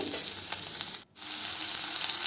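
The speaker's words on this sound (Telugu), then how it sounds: "ఇది క్యారెట్ యాడ్ చేసుకున్నాం కదండి అది ఆల్మోస్ట్ ఇక ఆయిల్లోనే ఫ్రై అయ్యేలాగా చూసుకుందామండి" Carrot pieces frying in oil in a pan for semiya upma, a steady crackling sizzle that runs throughout, broken by a brief pause near the middle.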